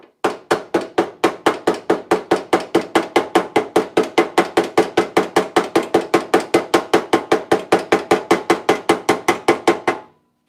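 A hammer strikes a dented car body panel backed by a dolly, giving roughly forty loud, close, metallic blows at an even, steady pace over ten seconds before it stops, with no talking.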